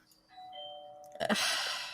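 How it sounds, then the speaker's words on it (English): Doorbell ringing with a faint two-tone chime, followed by a louder burst of broadband noise near the end. "Yeah, my doorbell just rang."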